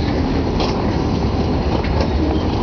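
Berkshire Hills train cars rolling near a track junction, a steady loud rumble of wheels on rails with faint clicking, continuous and close throughout.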